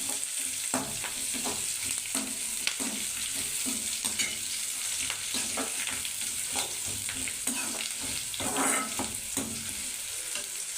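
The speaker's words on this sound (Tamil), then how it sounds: "வெங்காயம் நல்லா வேகட்டும், வதங்கட்டும்." Onions and curry leaves sauté in a pan of oil for a homemade egg gravy, with a steady sizzle running throughout and frequent soft scrapes and clicks of a stirring spoon, close and even, with no talking.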